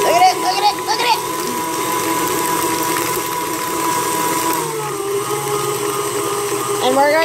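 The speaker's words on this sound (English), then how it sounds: "I'm gonna be doing this in the stand mixer" Stand mixer whisking cream cheese, a steady loud motor whir with a constant hum, with a voice talking over it briefly.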